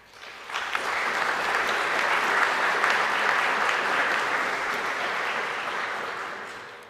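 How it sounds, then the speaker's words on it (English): Loud, sustained applause from a graduation ceremony crowd, swelling quickly and holding steady for several seconds before slowly fading. "They deserve a big applause for that as well."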